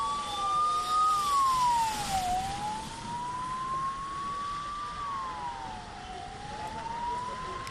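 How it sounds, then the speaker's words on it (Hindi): Ambulance sirens wail at a rescue site after a cloudburst near the Amarnath cave. A steady two-tone siren rises and falls, moderately loud and close, over a busy outdoor background. "अशरफ, मैं देख पा रहा हूं कि यहां पर एम्बुलेंस और अच्छी खासी संख्या उनकी है"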